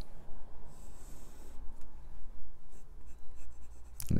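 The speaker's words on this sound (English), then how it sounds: "it's really starting to write properly now" Kaigelu 316 fountain pen in stone colour with a medium nib scratching steadily across paper, a soft continuous close-up scratch that ends in a brief louder knock.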